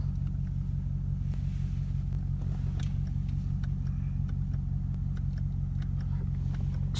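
A high-mileage Lexus IS F car drives along with a steady low engine rumble and road noise inside the cabin, fairly loud and continuous, with no talk.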